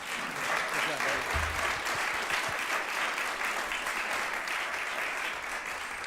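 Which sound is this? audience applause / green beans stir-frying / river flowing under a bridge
audience applause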